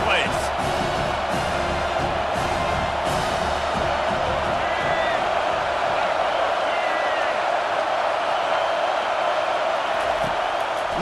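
A stadium crowd in a video game football match roars loudly and continuously on a third down, a dense wall of cheering that never lets up.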